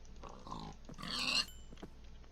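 A pig being killed in Minecraft, with short grunting oinks followed by a louder squeal, fairly quiet and alone.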